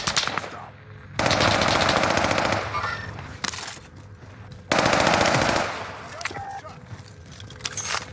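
Automatic weapon fire in Call of Duty Warzone comes in two long, loud sustained bursts separated by a pause, with scattered single shots and effects after them, while a player talks excitedly.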